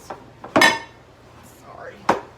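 Metal baking pans for banana nut bread clank and clatter as they are handled for greasing, a few sharp knocks spaced out over a quiet kitchen background.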